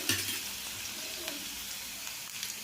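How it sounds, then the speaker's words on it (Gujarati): Mustard seeds and garlic paste crackling in hot oil for a bottle gourd curry, a dense continuous sizzle with scattered sharp pops, close by and without talk. "રાઈને તતડવા દઈશું"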